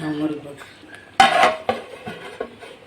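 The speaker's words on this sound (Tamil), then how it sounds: "இப்போ ஒரு மூடி போட்டுக்கிறேன்" A lid is set on a pot of tilapia fish curry with a sharp metallic clank, followed by a few lighter clinks of metal cookware. Faint talking runs under it.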